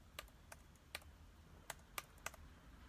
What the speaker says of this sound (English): we're going to go back in here and we're going to type it out.